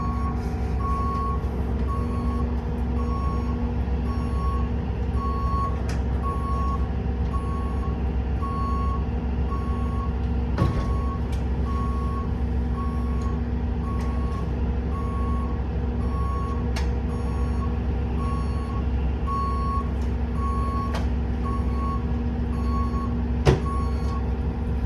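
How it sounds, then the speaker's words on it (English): A city bus wheelchair ramp deploys during a pretrip inspection, with a steady repeating warning beep pulsing at a regular rhythm over the idling engine hum and occasional mechanical clunks, close and constant throughout. "if you could step back so I can deploy the ramp"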